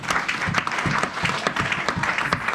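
A church congregation applauds together in a steady, lively round of clapping, many hands close and fairly loud, with faint voices mixed underneath.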